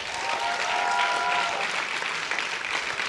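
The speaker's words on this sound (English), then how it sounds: "Can y'all clap it up for them?" A crowd applauds steadily, dense clapping filling the whole stretch at an even, fairly loud level.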